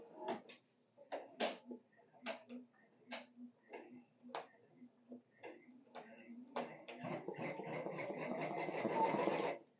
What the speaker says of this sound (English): I'm going to hit the green, and I'm going to let it do its placement